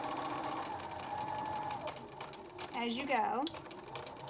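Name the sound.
sewing machine straight stitching a cloth face mask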